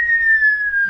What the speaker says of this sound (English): I had a whistling sound of like a bomb